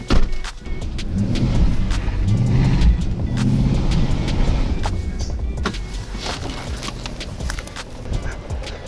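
A car tows another car out on a strap hitched to its tow bar. The engine gives a steady, low, straining rumble, with scattered clanks and knocks throughout.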